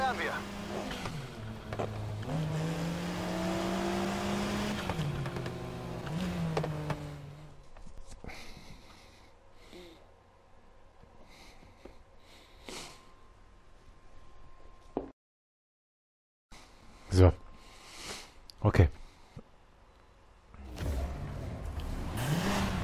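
A GTA car drives and revs in Need for Speed Heat, its engine rising in pitch during acceleration early on and then settling into rushing road noise and whooshes, with someone talking over it.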